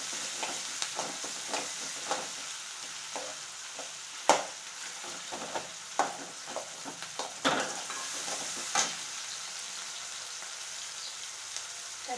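Tomato sizzling in hot oil in a frying pan, stirred with steady scraping strokes and occasional sharper knocks against the pan, a continuous close crackle with no talking.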